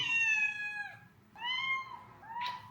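A cat meows three times close by, two long drawn-out cries followed by a shorter one, in an otherwise quiet room.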